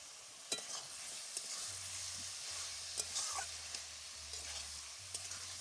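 Boiled young jackfruit being stirred into cooked spices in a pan, a soft steady sizzle with several sharp spatula clacks and scrapes spaced through it, along with a faint low hum.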